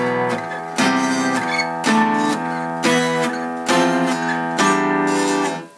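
Distorted electric guitar power chords strummed in a steady rhythm, about six sustained hits, loud and thick with a muddy low-end ring from an unmuted sixth string.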